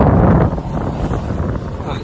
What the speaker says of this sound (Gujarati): એનો અવાજ બહુ આવે પવનનો ફરર થાય ને